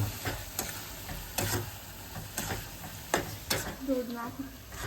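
Carrots for gajar halwa are stirred in a pan, with repeated scraping strokes of a spoon at an irregular rhythm over a soft sizzle, close and fairly quiet.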